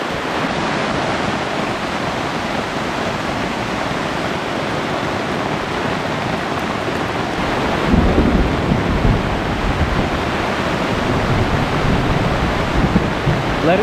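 Heavy rain drums steadily on a Jack Wolfskin Gossamer two-person tent during a thunderstorm, a dense close hiss throughout that swells louder and rougher partway through as the downpour intensifies.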